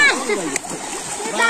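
Water splashes and sloshes as people play in a local outdoor swimming pool in Jarailtola, Silchar, close-up bursts of splatter at the start and end, with voices talking throughout.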